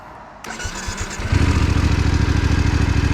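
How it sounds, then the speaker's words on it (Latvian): A Voge DS900X motorcycle from 2026 fires up after a brief starter whir and settles into a loud, steady, throbbing idle with an even pulsing rhythm, close by and with no talk over it. "Un motoriņš strādā."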